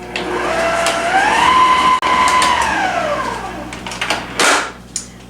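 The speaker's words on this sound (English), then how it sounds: "we'll go ahead and mix this on low until it's well combined" An electric mixer whirs on low speed through cake batter of eggs and vanilla for a fresh strawberry cake, its motor pitch rising and falling in a smooth, loud hum, with brief clatter near the end.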